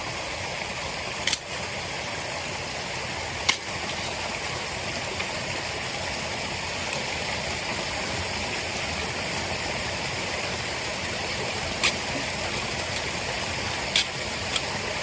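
A jungle river flows beside a campsite, a steady broad rushing wash with a few faint clicks and knocks on top, and no voices.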